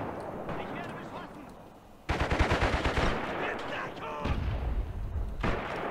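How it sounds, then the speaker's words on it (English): Machine gun fire in the WWII tactical war game Graviteam Tactics, rapid repeated bursts of gunfire with heavier booming impacts, loud and close, while a player speaks over it. "What kind of machine gun is that?"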